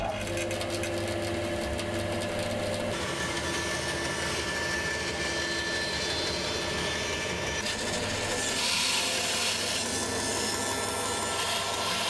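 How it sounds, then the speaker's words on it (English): A bandsaw cuts through wood, giving a continuous, loud rasping whine that holds steady for the whole stretch, with its tone shifting slightly partway through as the blade works along the line. "I'm just going to cut along this line on the bandsaw"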